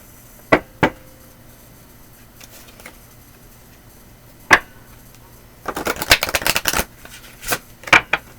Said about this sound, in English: I'm going to draw 3 cards from the Dark Mirror Oracle.